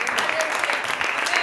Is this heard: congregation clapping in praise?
yes